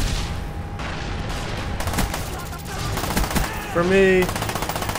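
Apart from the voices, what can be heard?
Uzi submachine gun firing in the video game Black Ops 1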